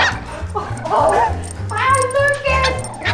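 A dog whimpering, yipping and giving short barks in close, loud bursts over a low, pulsing background.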